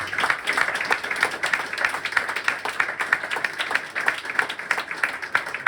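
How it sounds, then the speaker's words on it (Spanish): Sustained audience applause at a public talk about Palestine, a dense and steady wash of many hands clapping together, moderately loud and continuous, with no talking over it. "Yo pido un aplauso para el compañero."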